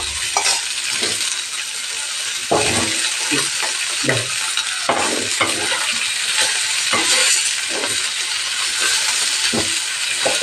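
Fish frying in oil in a pan after being flipped, a dense, continuous sizzle and hiss with scattered bursts of crackle and spatter, close and loud throughout.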